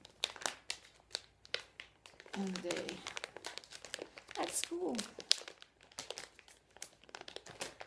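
A plastic snack package crinkles and crackles in short bursts as it is handled and pulled at, fairly close, mixed with a voice and other speech around it.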